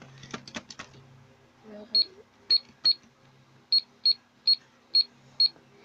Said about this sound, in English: Sorry guys if there's another sound of that, because that's just my cash register.